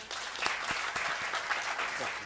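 A crowd applauding warmly, steady clapping that continues throughout at moderate loudness, with some voices mixed in.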